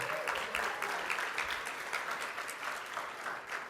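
Steady applause from an audience at a community celebration, honoring the CEO; dense clapping holds at an even level throughout, with no voices over it.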